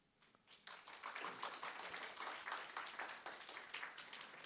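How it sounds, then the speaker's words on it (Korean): A church high school congregation claps in welcome, starting quietly and swelling into brisk, continuous clapping with distinct individual hand strikes, moderately close and heard alone. "박수를 계속 쳐달라 이 말이지"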